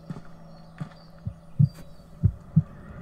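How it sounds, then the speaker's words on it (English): Heartbeat sound effect in the strategy game Medieval II: Total War, a few low, soft thumps in an uneven pulse, fairly quiet under a faint hum. "Why is there a heartbeat?"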